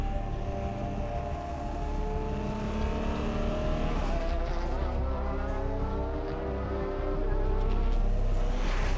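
An Audi race car at Le Mans roars past at high speed, its engine note loud and sustained and shifting in pitch as it moves.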